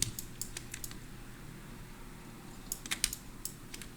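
Light clicks and key taps on a computer keyboard and mouse while holding Shift and Alt in Photoshop, a few soft scattered presses in two brief clusters over a quiet hum.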